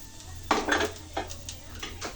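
A pressure cooker set down on a stove while cooking egg biryani, producing a handful of metallic clanks and rattling clatters at moderate volume, spaced irregularly over a couple of seconds.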